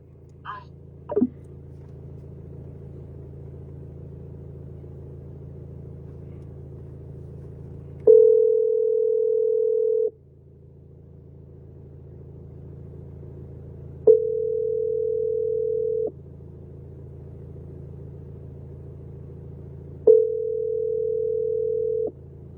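Steady telephone ringback tones during a failing phone call, three long flat beeps of about two seconds each, spaced several seconds apart over a low background hum, without talking over them.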